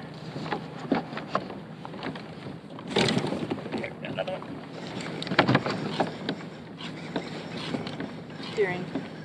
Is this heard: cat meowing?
no